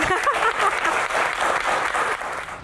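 An audience claps for a doctor at a medical association Q&A session, a loud, dense burst of hand clapping that holds steady and then tapers slightly toward the end, with no voices over it.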